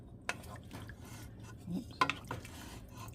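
A spoon stirs chili soup in a pot, making a few scattered clinks and scrapes against the metal over a quiet kitchen background, with a sharper knock near the end.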